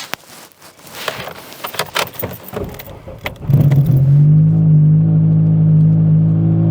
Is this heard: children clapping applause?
no